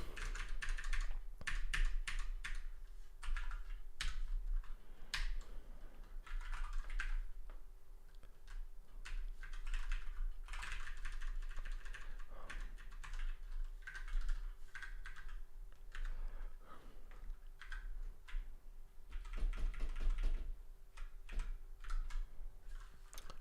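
A computer keyboard is typed on in close, steady bursts of clicking keystrokes that run for over twenty seconds with a faint constant hum behind them.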